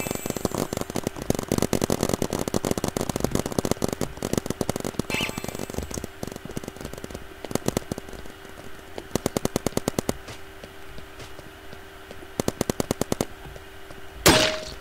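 Rapid gunfire from paintball guns in a Roblox game, dense bursts of clicky shots in the first half, thinning to sparse short volleys later, ending in a louder hit, no talk.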